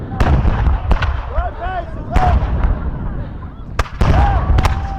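Several loud musket volleys fired by War of 1812 reenactors at Fort Erie cut sharply through the air, about five cracks spread over a few seconds, with shouted commands and crowd voices around them.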